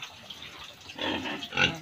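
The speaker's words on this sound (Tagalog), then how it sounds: "Yung baboy." A pig grunts in a farm pig pen, a few low rough snorts rising toward the end of the short clip, close and moderately loud over faint background noise.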